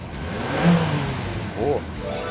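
A Suzuki Swift fitted with an F1-SPEED electric throttle controller in sport mode gives two short, fairly soft revs a second apart, with people talking around them.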